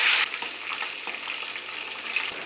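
Curry leaves and onions frying in hot oil for a Telugu carrot curry, a steady close sizzle with a louder burst at the start as they hit the pan, no talk.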